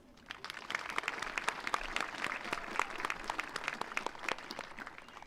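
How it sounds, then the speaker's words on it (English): Audience applause at a high school class of 2026 graduation ceremony, honouring the choir students: steady, dense clapping from a large crowd, moderately loud and continuous for several seconds, with no voices over it. "Give them another round of applause"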